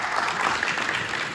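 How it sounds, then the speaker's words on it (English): A school crowd gives a brief, dense round of applause for the Leaf Foundation at a high school gathering where players and cheerleaders receive jackets, clapping steady and close throughout. "Give them a nice round of applause."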